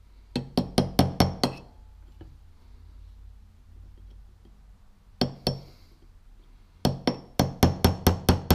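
A hammer drives a spring pin into a 1993 C4 Corvette suspension part, ringing metallic blows struck in quick bursts of about five, a pair, then six more, close and sharp with quiet gaps between.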